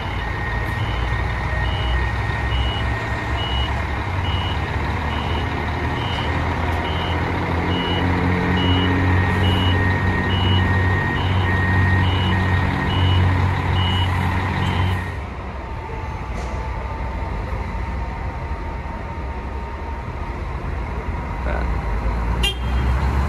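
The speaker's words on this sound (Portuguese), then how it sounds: "Vai dando ré aí o Andorinha, rumo a Presidente Prudente." An Andorinha bus reverses out of a bay at the Franca bus station, its regular reversing beeps repeating loudly over a heavy diesel engine rumble and busy station background for about fifteen seconds before the beeping stops.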